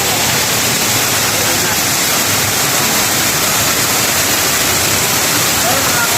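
A swollen river rushes steadily during continuous rain, its broadband roar loud and close, an unbroken wash of water noise with no pauses throughout.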